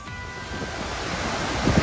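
Tad Yueang waterfall in Paksong, Laos, a loud continuous roar of falling water with a wind-like rush, steady throughout with no voices.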